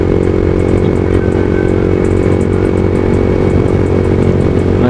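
A Yamaha MT15 motorcycle engine runs close and loud with a continuous buzzing drone and faint intermittent ticks, while the bike jerks.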